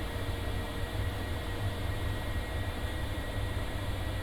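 In Kerbal Space Program, an aircraft lifts off from the deck of a flying aircraft carrier, its engine roaring as a steady, even, continuous drone with a deep rumble underneath and no voice over it.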